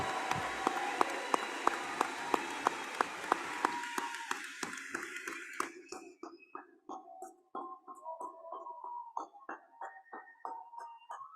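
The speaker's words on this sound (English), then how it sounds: "One final round of applause for our Goff graduates." Graduates at a middle school eighth-grade celebration ceremony receive applause: a crowd claps steadily and densely at first, then thins into scattered individual claps that trail off near the end.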